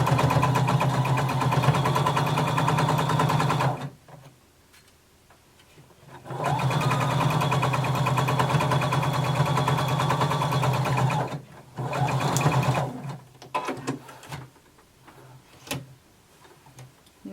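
A sewing machine stitches a garment's side seam and back over a belt loop in steady whirring bursts, with short pauses between runs and softer, slower stitching near the end.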